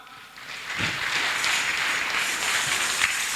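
A church congregation applauding, a steady wash of clapping from many hands that swells in and holds at moderate loudness, heard from within the room.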